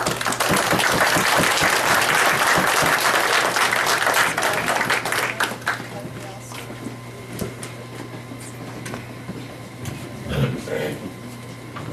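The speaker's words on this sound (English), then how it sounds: "Let's give them a round of applause." An audience at a military medal award ceremony applauds in a dense burst for about five seconds, then it fades into room hum with scattered faint sounds and a soft voice.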